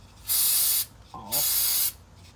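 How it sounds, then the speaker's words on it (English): Brake parts cleaner sprayed onto a rear brake of a 2003 Chevy Suburban: two close, loud hissing bursts, each about half a second long, separated by a short pause with a faint voice sound between them. "We're going to use a little brake parts cleaner to get that old"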